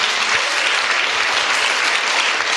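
An audience at a science quiz applauds steadily, a dense, even wash of clapping with no voices over it.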